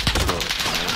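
Rapid bursts of gunfire in a shooter video game, a loud, quick rattle of close shots lasting about a second.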